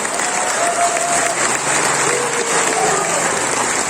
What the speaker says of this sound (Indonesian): Beri tepukan kepada mereka.